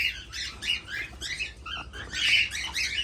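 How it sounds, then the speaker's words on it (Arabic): Several birds in a breeding flock squawk and chirp in quick repeated bursts, close and fairly loud, with harsh calls overlapping throughout. "شوف الطيور"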